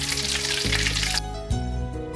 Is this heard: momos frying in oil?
yes